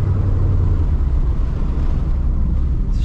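A vehicle engine rumbles steadily and loudly while driving down a road, a continuous low drone that holds fairly even for a few seconds with no talk over it.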